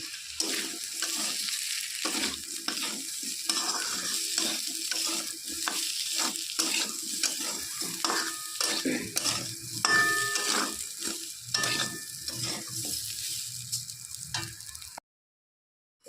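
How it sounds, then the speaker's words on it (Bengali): Rice and potatoes fry and get stirred in a pan, with steady sizzling under repeated scraping strokes of a spoon against the metal, close and continuous, no talking. "তো চালটাও আলুর সঙ্গে ভেজে নিচ্ছি"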